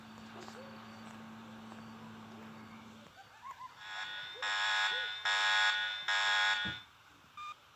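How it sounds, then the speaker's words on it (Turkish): A synthetic electronic alarm in the video game Mr. Meat rings in repeated pulses of a high tone, following a steady low hum and a few soft clicks. "Ta sesi buraya geliyor alarmın."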